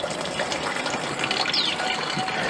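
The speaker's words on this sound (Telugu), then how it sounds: "మనం ఇందులో కొన్ని వాటర్ పోసి చూద్దామండి సో ఇందులో కొంచెం వాటర్ పోస్తున్నాను నేను ఇట్లా" Water poured through a funnel into a garden sprayer tank, a continuous close gushing and trickling fill that runs steadily throughout without any talking.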